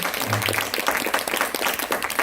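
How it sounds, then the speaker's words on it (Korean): Audience applause at a Korean university talk concert on social welfare jobs, a steady dense patter of clapping across the whole clip, moderately loud, with a brief low murmur of voices near the start. "박수 한번 쳐주세요"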